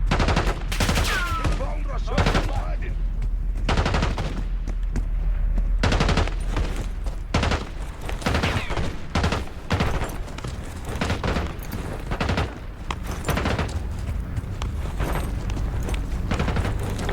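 Rapid gunfire and automatic bursts from the video game Call of Duty Black Ops 6, loud and continuous with booming shots throughout, while voices call out now and then.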